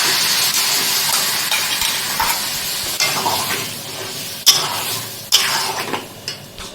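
Yogurt paste hits a hot pan of fried spice mix for a broccoli and potato curry, setting off loud hissing sizzle with stirring scrapes and a few sharp spatters as it bubbles.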